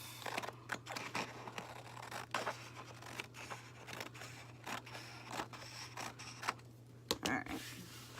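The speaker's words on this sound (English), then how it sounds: "let's grab a pair of scissors" Scissors cut with a quick series of faint, crisp snips in an irregular rhythm, heard close up against a low background hum.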